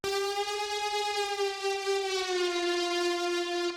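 A synthesizer lead holds a bright, buzzy tone rich in overtones, gliding slowly with heavy portamento between pitches, steady and alone with no voices.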